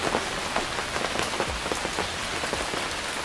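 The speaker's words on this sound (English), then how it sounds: "Now it's started raining" Steady, loud rain pours down, a dense hiss of drops pattering on surfaces with no break and no voices over it.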